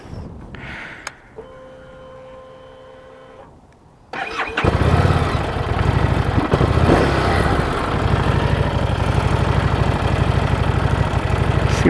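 A 2017 Harley-Davidson Street Rod motorcycle fires up after a few quiet seconds of faint tones, then settles into a loud, close, steady idle with a throbbing low rumble and no talking.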